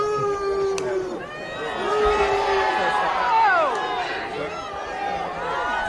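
A crowd erupts into loud, continuous shouting and cheering as eggs are thrown at King Charles, many voices overlapping and swelling to a peak midway before staying raucous.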